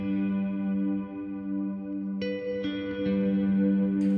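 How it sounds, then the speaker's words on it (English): Guitar played through the Plateaux reverb on a Line 6 HX Stomp, sustained chords blooming into a long, lush wash, with fresh strums near 2.2, 2.6 and 3 seconds layering over the decaying tail, no talking. "Pretty good reverb."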